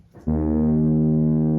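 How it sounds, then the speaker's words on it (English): A home radiator gives a deep, steady groaning drone with strong harmonics that kicks in after a brief pause and holds continuously, like a creaking ship's hull. "If you're hearing like a ship stern creaking, that's the sound of my radiator."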